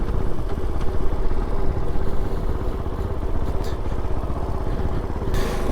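A Kove 450 Rally motorcycle rides along a trail with a steady, close single-cylinder engine thrum, its throttle shifting slightly and a few brief knocks and rustles over the running engine.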